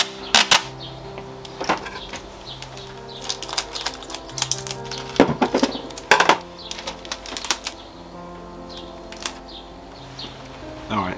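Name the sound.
masking tape being applied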